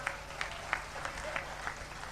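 Applause from a live audience at a Hindi comedy poetry show greeting the performer, a steady wash of clapping with a few louder claps standing out, fairly distant and moderately quiet.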